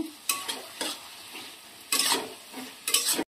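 A ridge gourd curry is stirred in a pan over a high flame, with about four loud scraping spatula strokes over a bubbling sizzle, close up and without talking.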